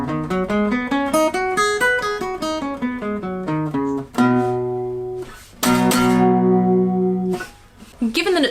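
Guitar running up and down the pentatonic scale in quick single notes, then a few sustained notes and chords ringing out, played alone at a steady level.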